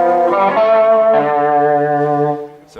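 Electric guitar played through a Walrus Audio Julia chorus and vibrato pedal, a sustained swirling, wobbling modulated note that warbles and then fades near the end, loud and alone.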